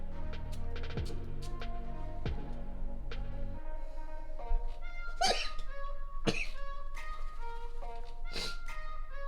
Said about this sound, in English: made me sneeze for a little bit